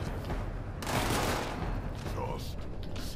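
Gunfire and explosions in the video game Fallout 76, a dense, sustained volley of shots with a louder blast partway through, loud and continuous.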